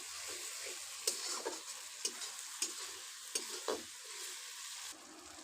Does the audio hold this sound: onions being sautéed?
yes